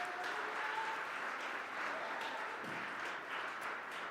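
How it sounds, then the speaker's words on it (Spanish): A church congregation applauds steadily during a sermon, a soft, even wash of many hands clapping at a distance, continuous for several seconds. "Dale un aplauso al Señor."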